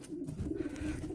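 Ornamental and young homing pigeons coo steadily in a loft, a low throaty rolling burble repeating close by with overlapping birds, continuous through the moment.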